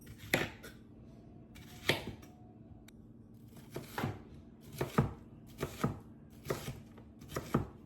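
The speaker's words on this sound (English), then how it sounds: "We're roughly chopping these because they're going in the pot and being boiled with the pork." A knife roughly chops onions on a cutting board in sharp, uneven strikes, some single and some in quick pairs, close up with quiet pauses between.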